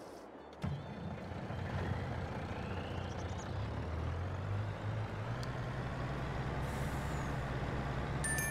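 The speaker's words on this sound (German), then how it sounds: "So, ein LKW ist am Wald angekommen." A truck in Farming Simulator 22 arrives at a forest. An air brake hisses sharply at the start, then a low diesel engine idles steadily with faint higher tones, and no one speaks.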